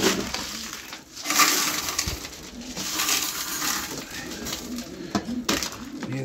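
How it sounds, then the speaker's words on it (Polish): Pigeons coo and flutter nearby while being fed outdoors in the evening, amid scattered pecking and rustling, a busy, continuous flock sound without talk. "Jest karmienie. Dużo siedzi gołębi na dworzu."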